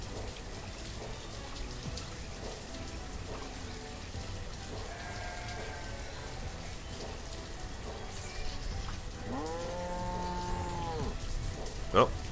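Cows in the video game Banished moo in several drawn-out calls, with a long, loud low moo near the end, over a constant rain-like hiss of ambient farm noise.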